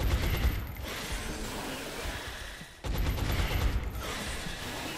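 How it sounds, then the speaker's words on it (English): Bullet swarm in XCOM: Enemy Within unleashes dense, sustained rapid gunfire, loud and continuous, with a brief dip before a second roaring burst. "Mushy's bullet swarm makes all the difference"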